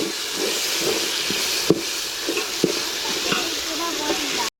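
Ginger garlic paste fries in a pot with a steady sizzling hiss broken by a few sharp clinks of stirring, and a voice speaks over it.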